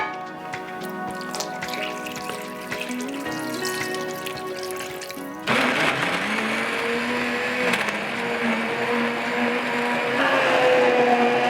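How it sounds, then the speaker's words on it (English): A hand blender whirs steadily, its pitch shifting as it churns through thick soup, running continuously and close up with no talking. "then just blitz it with a hand blender"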